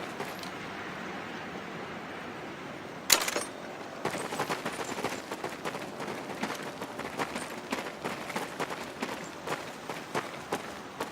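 Gunfire in the World War II shooter Medal of Honor: Pacific Assault, heard as a sharp single crack followed by a long stretch of dense, rapid automatic shots and scattered bursts at moderate loudness.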